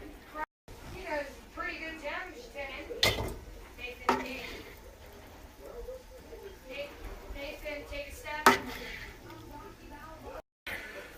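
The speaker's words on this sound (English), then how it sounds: "now we're going to drain it into this strainer, and it's going to catch the grease in the bowl" Cooked ground beef is tipped from a pan into a metal strainer over a bowl in a home kitchen, with a few sharp clanks of cookware and utensils over soft scraping and a faint voice in the background.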